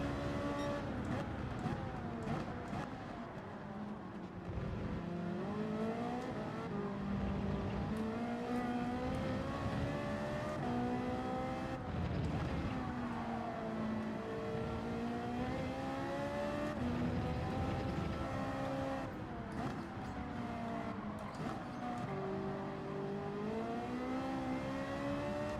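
A Ferrari racing around Fuji in Gran Turismo 7, its engine note climbing and falling steadily through gear changes, loud and continuous for the whole stretch with no break.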